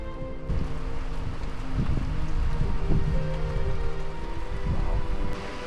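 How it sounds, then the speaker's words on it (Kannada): Steady rain patters and hisses on surfaces nearby, with low rumbling noise underneath and no talking. "ಹೊರಗಡೆ ಮಳೆ ಬರ್ತಾ ಇದೆ"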